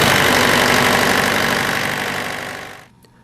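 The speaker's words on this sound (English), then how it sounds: "the engine will preheat and start automatically." A truck refrigeration unit's diesel engine runs loud and steady after an automatic preheat and start, a dense continuous mechanical drone that fades out abruptly near the end.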